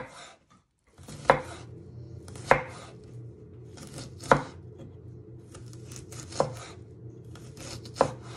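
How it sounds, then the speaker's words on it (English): A knife chops food into small pieces on a cutting board while Chinese chicken lettuce rolls are being prepared, giving five sharp, evenly spaced thuds with quieter slicing and rubbing between them, close and clear. "And then you just want to finally slice it into little pieces."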